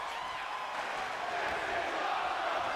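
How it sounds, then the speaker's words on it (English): A wrestling crowd at a live show roars loudly in a dense, continuous wash of cheering and yelling. "And this crowd going bonkers."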